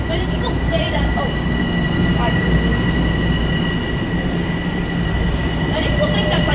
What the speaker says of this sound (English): And, well, there you go. Train.